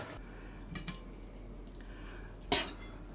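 A utensil stirs rice and chopped coriander in a pot, giving faint scrapes and a couple of soft clinks near the start, then one sharper metallic knock against the pot toward the end, with no talking.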